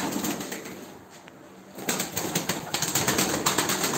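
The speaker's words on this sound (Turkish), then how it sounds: "Bunların hepsi uçan kuş arkadaşlar." Turkish tumbler pigeons flutter and coo nearby, with a burst of wing flapping and rustling that grows busier in the second half of the short stretch.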